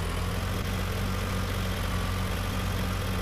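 A tractor engine idles while a trolley is hitched behind it in Punjab, giving a steady, unbroken low rumble throughout with no voices.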